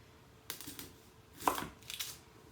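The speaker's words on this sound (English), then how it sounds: "what I'm going to do first off is cut the tip. See that? The tip of the onion right off." A kitchen knife slicing the tip off an onion on a cutting board, three short, quiet cuts with the middle one landing as a distinct knock, heard close with no speech.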